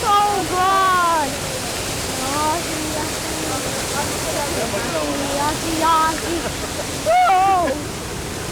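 Waterfall rushing as a steady broadband roar at close range, with voices talking over it throughout and a brief louder surge near the end.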